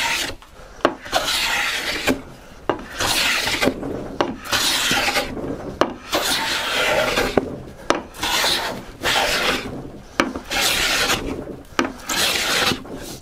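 Hand plane taking repeated inch-and-a-half-wide passes along the edge of a lumber board, each stroke a sharp rasping shave, about a dozen evenly spaced strokes close by with brief pauses between them.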